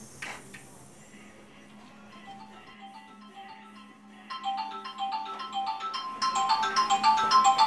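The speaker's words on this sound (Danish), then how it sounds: "Mor ringer ofte ubelejligt." A phone rings with a melodic ringtone for an incoming call from a mother, its tones beginning softly and growing louder and denser as the ringing continues, with no talking.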